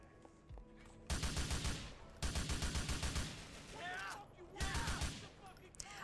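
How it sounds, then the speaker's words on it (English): Rapid bursts of automatic gunfire hitting a wall in GTA 4, three loud close volleys of evenly spaced shots separated by short pauses, with brief voice-like sounds between bursts. "Oh, shooting the wall there."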